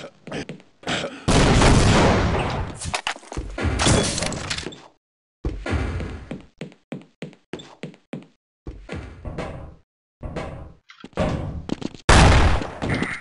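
Tommy gun and auto rifle fire in the game Science & Industry comes in loud, close bursts and single cracks, separated by short silences, with heavy sustained volleys at the start and end.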